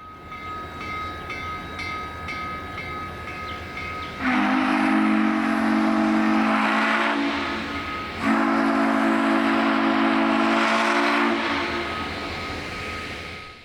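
A loud whistle from Florida East Coast steam locomotive no. 148, a 1980s to 1990s era whistle, blows twice in long sustained chords, each about four seconds, over rumbling train noise.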